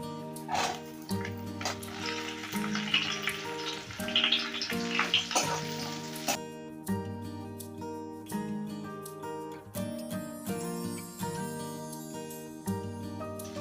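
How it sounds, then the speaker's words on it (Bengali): Diced onion frying lightly in oil for a chilli chicken with cabbage produces a hissing sizzle through the first half, under steady background music that carries on alone afterward. "পেঁয়াজটা একটু 5 মিনিট ভেজে নেব।"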